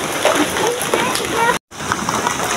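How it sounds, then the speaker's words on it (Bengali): Light drizzling rain falls outdoors as a steady, even hiss, with a muffled voice faintly underneath and a brief dropout of sound partway through. "এই যে ঝিরি ঝিরি বৃষ্টি পড়তেছে"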